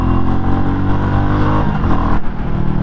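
A 2023 Royal Enfield Classic 350 in Halcyon Forest runs loud and close, its single-cylinder engine holding a steady, throaty drone under throttle with a slight dip near the end, no voices present.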